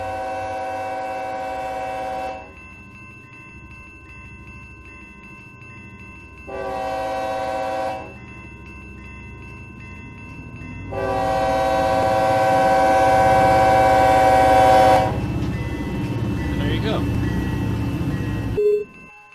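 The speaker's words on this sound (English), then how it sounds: "there's your whistle post. They've already started sounding for it." A diesel locomotive horn in the Run 8 V2 train simulator sounds for a whistle post at 30 mph: a long blast, a short one, then a longer, louder blast over the low rumble of the moving train.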